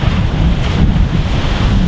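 Strong Arctic Sea waves surge continuously on a beach under heavy wind, a loud, steady roar of surf with rough wind buffeting close to the microphone.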